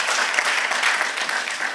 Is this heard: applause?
yes